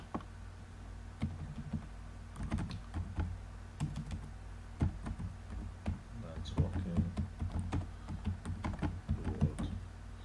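Keys clatter on a computer keyboard in irregular bursts of close, light clicks while text is entered for a web banner design, with a quiet voice speaking intermittently underneath.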